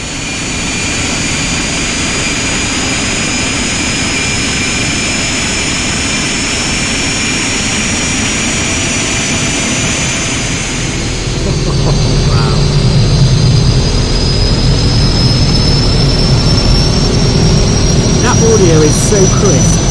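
Carenado King Air C90 turboprop engine spooling up in X-Plane 11, a rising whine with steady roaring hum that grows louder and fuller midway, continuous and close.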